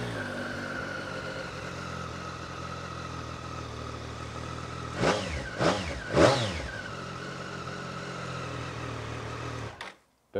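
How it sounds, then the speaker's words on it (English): A 2017 Triumph Street Triple RS motorcycle idles steadily at close range, then gets three quick sharp throttle blips before the engine cuts off into near silence. "let's just do a little static startup test so you can hear the difference in the sound of the two bikes."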